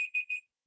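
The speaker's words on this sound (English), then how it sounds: "there's my timer" Kitchen-style timer alarm going off indoors: three quick, faint, high-pitched electronic beeps in a short burst, then silence.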